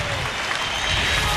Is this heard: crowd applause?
yes